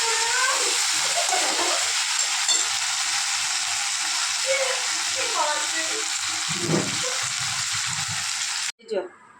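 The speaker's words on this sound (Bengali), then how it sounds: "এই যে আলু আর বাদামটাকে ভালো করে ভেজে নেব" Potatoes and peanuts fry in a pan with a continuous loud sizzle and occasional stirring scrapes, while voices talk faintly in the background and the sound cuts off abruptly near the end.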